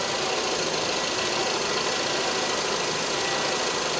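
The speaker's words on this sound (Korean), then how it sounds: "LPG의 엔진 소리 한번 들어볼게요." An LPG-fuelled SM7 car engine idles steadily with the hood open, a continuous mid-pitched rumble with a faint ticking knock, close and even with no talking.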